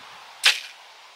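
A single soft thud of an arrow striking the center of a burlap target, brief and muffled, with a short fading tail in otherwise quiet outdoor air.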